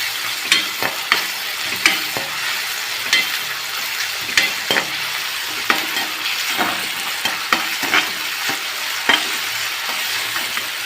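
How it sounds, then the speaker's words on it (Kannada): Chopped onion and tomato cook in a hot pan for semiya upma, a steady close sizzle broken by repeated scraping stirs of a spoon against the pan, with no talking. "ಈರುಳ್ಳಿ, ಟೊಮೆಟೊ ಹಾಕಿದ್ದೇನೆ. ಸಾಫ್ಟ್ ಆಗೋವರೆಗೆ ಬೇಯಿಸಿ."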